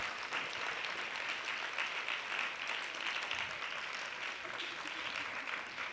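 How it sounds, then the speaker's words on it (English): Audience applause after a candidates debate for a 2019 League of Women Voters education race, a steady, fairly faint wash of clapping from a crowd that continues without pause throughout. "You may applaud now."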